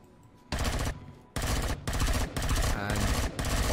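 Sustained automatic assault rifle fire aimed at a dinosaur in the survival game Empyrion Galactic Survival, loud close bursts with short pauses between them.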